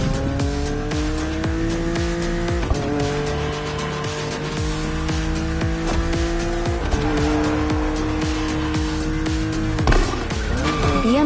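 A BMW Z two-seat roadster races in The Crew Motorfest, its engine note climbing and dropping through repeated gear shifts with loud tire squeals and skids, steady and close throughout.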